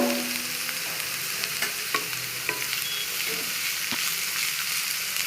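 Ginger garlic paste and vegetables for veg fried rice roast in a pan with a loud, steady sizzle and repeated light clicks of a spoon stirring.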